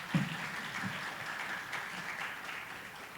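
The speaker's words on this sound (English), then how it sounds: "we also have to give him a very big round of applause" A conference audience at a high-level breakfast meeting applauds, producing a fairly faint, continuous wash of clapping that holds steady from start to finish without speech.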